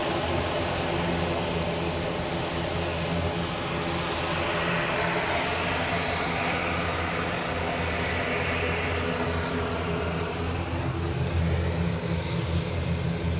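An Airbus A380 airliner at Manchester Airport, a steady broadband jet roar sustained throughout at moderate distance, no voices over it.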